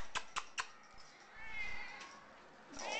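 A medium-length-haired brown tabby female cat at an animal shelter gives a soft, drawn-out meow after a few sharp taps, close and fairly quiet.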